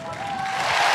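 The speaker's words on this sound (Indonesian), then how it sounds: "Mana tepuk tangan untuk Januar?" Brief swell of audience applause and cheering at a KDI TV singing contest, a dense wash of clapping rising in loudness, with a faint tone running underneath.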